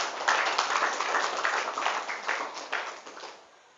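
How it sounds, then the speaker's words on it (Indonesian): An audience at a pesantren gathering gives a few seconds of dense, steady clapping that fades toward the end, with no voices over it. "Tepuk tangan untuk pesantren di Indonesia."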